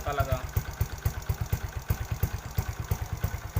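A motorcycle fitted with an Apido Powerpipe exhaust idles steadily up close, its low, even thumping pulse sounding much like a stock pipe, with no talking over it.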